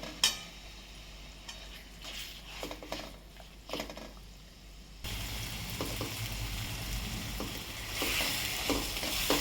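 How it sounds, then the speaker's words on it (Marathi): Masala frying in oil in a kadhai, a soft sizzle that turns into a denser, louder hiss partway through, with scraping stirring clicks and no talk. "हा पूर्ण मसाला आता मी ह्यामध्ये असा घालून भाजणार आहे"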